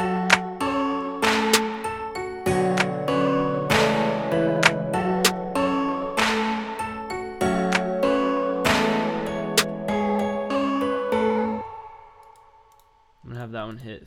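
Hip hop beat plays back through its first four bars, with layered melodic keys and punchy drum hits running steadily and loud, then dropping out briefly before a short restart.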